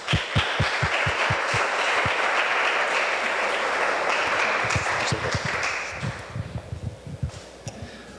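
Loud, close audience applause at a bioethics conference welcoming a speaker: a dense burst of many hands that holds for several seconds, then thins into scattered individual claps.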